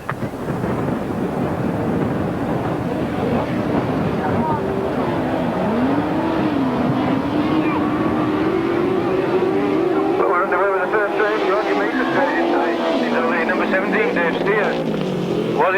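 1993 Lincolnshire Poacher grasstrack race, with racing motorcycles roaring continuously and loudly, engine pitch rising and falling as bikes pass, with commentary talk over the noise.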